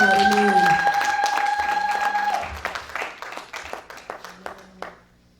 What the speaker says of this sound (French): Clap for the word. Clap for God.